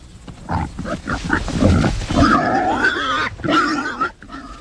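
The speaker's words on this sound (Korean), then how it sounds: "마침 거기에서 멀리 떨어진 곳에 많은 돼지떼가 있었다." A large herd of pigs grunts and squeals in a dense, overlapping chorus of rough snorts and harsher cries. The sound is loud and close and continues throughout.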